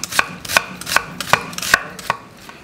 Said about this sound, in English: Next, we're gonna julienne our onion.